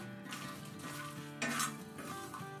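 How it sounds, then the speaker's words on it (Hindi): Whole cumin, long dried red chillies and a broken bay leaf roasting in a pan for chicken angara masala, with soft crackling sizzle and a few scraping stirs against the metal. "इन तमाम चीज़ों को ना अच्छी तरह ये रोस्ट कर लेंगे"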